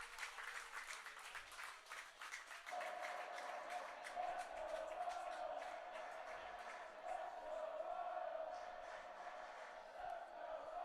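Hastings baseball crowd breaking into sustained cheering and applause as spectators rise to their feet after a strikeout-throw-out double play, swelling from scattered noise into a loud, steady roar with no talk over it.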